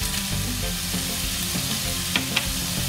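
Sliced red chili sizzles with garlic in a hot frying pan: a steady, fairly loud frying hiss with a couple of light clicks near the end.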